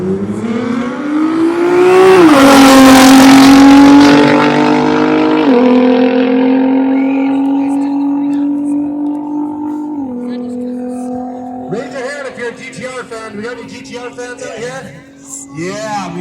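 A drag race car making a run down the strip, a loud engine roar climbing in pitch through gear changes and then easing off partway, with a commentator talking over it throughout.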